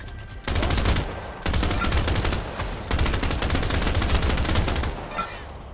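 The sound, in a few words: gunfire in a video game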